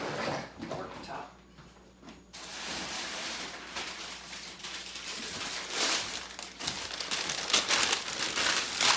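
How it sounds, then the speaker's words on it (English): A paper bag worktop crinkles and rustles in repeated crisp bursts as it is spread out on a potting surface for dahlia tubers, loud and close with only brief pauses. "get out my trusty paper bag worktop"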